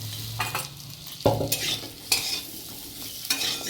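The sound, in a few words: potato and aubergine frying in a pan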